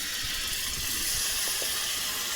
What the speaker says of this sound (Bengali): এই সময় আমি অল্প একটু জল দিয়ে দেবো মিক্সারের বাটিটা ধুয়ে